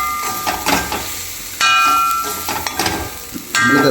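Grated coconut and beetroot are stirred and roasted in a pan for beetroot pachadi, with repeated scraping strokes and soft sizzling, some sharp clinks of the spatula against the pan.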